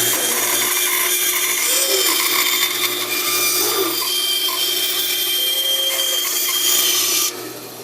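A power saw cutting a wooden fish decoy pattern, a steady, loud, close whine that runs continuously before cutting off abruptly near the end.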